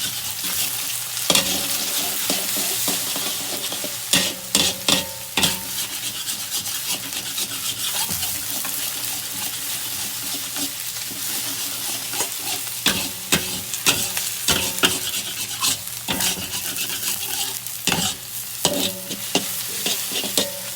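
Four smashed eggs frying in a pan for Indonesian mie goreng, a continuous close sizzle broken by bursts of scraping and stirring strokes that cluster toward the second half, with no talk.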